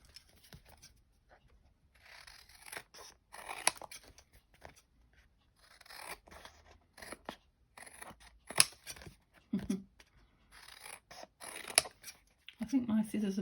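Scissors cut paper while a collaged journal card decorated with Flower Fairies is trimmed, making quiet, close, irregular snips and crunching blade sounds in short bursts, with soft speech nearby.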